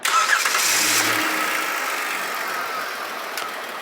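A Kia car engine cranks and catches, a short starter whir followed by the motor settling into a steady idle.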